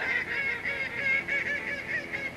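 Geese honk repeatedly in a steady, nasal chorus, fairly close and continuous for a couple of seconds.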